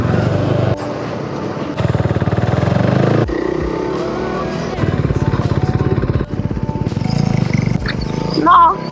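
A motorcycle engine runs roughly and loud while cold, with bursts of idle and revving and uneven dropouts, as voices speak over it near the end.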